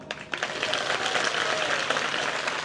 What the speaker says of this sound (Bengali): যারা করতাল বাজাচ্ছে ওদের যেন জোরে একটা হাততালি দেন একটু